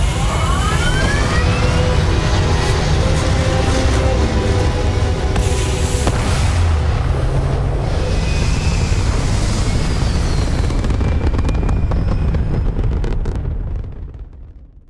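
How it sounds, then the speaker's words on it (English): Spaceship thrusters in Starfield roar steadily and loudly for the whole stretch, a dense rumbling blast with some whooshing swells, fading away only at the very end. "All thrusters firing."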